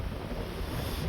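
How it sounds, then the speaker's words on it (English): Strong wind gusts across a sailboat at sea off the White Cliffs near Dover, a loud, continuous roar buffeting the microphone throughout the short moment. "that got windy"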